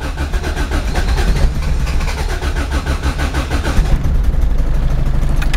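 A Toyota AE86 cranks and catches after sitting for months, the starter chugging in a rapid rhythm before the engine fires into a rough, uneven idle, close and loud.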